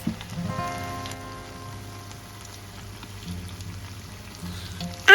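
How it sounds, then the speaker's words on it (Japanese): Arugula kakiage tempura fries in oil in a small single-person fryer, a steady crackling sizzle like light rain, with a low hum underneath and a sharper clatter at the very end. "ひっくり返して裏面も揚げます。"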